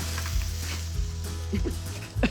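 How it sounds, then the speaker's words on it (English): Spicy hot sausage frying in a skillet, a steady close sizzle with crackle and a few soft clanks of utensils stirring in the pan, no talk. "I'm gonna add my sausage to a skillet and cook it until it's nice golden brown"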